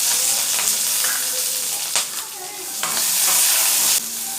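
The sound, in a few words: green chilies frying in oil in a kadai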